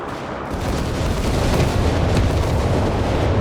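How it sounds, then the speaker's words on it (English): Mines go off in a battle in the video game Company of Heroes 3, a dense, rumbling mass of explosions that swells and holds loudly for a few seconds with no talk over it. "A lot of mines going off"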